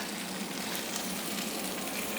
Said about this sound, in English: now we're going to add all the beef back into the pan